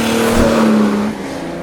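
A Ferrari 250 Testa Rossa engine drives hard in a straight line, a loud close steady roar with a strong tonal growl that drops slightly in pitch toward the end.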